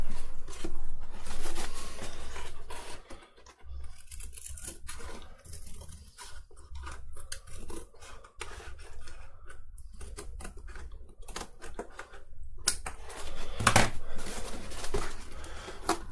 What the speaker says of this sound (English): So now I will cut the cardboard